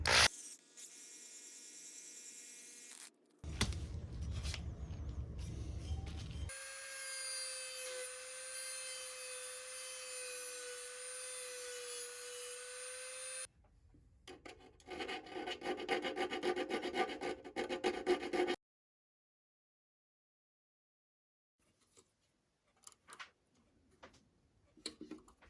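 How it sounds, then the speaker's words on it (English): M5 by 30 mm screws being driven into 3D-printed plastic on a VEVOR 10-inch woodworking bandsaw upgrade, cutting their own threads with a close, rasping grind and steady whir in several bursts separated by pauses. "I'm just letting these M5 by 30 millimeter screws cut their own threads"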